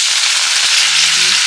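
Boiled pigeon pea dal is tipped into a pan of fried spices, setting off a loud, steady, close-up sizzle that holds for the whole short moment.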